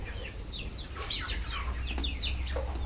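Chickens cluck and chirp close by as they are fed, a busy chatter of short, rising calls over a low rumble, with no talking.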